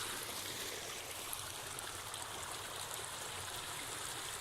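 Steady, faint rush of water running through old stone Inca channels down a hillside in the Atacama Desert, a continuous broadband flow with no voices.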